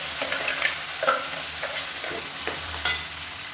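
Ground tomato chutney is tipped into a pan of hot tempering, where it sizzles and fries steadily while a spoon stirs it with a few scraping clicks. No voices are heard.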